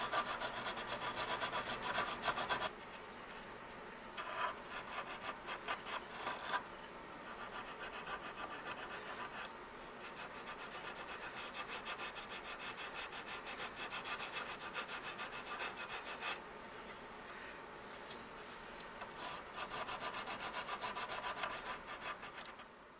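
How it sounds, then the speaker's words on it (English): Draw filing metal with a hand file, a close, steady scraping rasp of repeated strokes continuing for a long stretch with brief breaks, fairly quiet. "that's the whole idea of the draw filing, is to get it down so you get a nice finish on your work"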